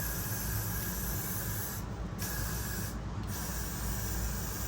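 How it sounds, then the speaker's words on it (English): Gatsby hair spray hisses onto a wig in a near, continuous spray, with two brief pauses between bursts. "We're gonna spray some more Gatsby."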